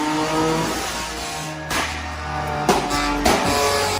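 A modified car engine revs hard on a dyno in repeated bursts, loud and close, with sharp surges of throttle and no voices.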